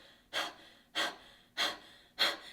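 A person pants in four evenly spaced, forceful breathy exhalations as a vocal warm-up, pushing air out with short pauses between each, close and alone.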